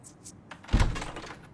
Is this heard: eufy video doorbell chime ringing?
no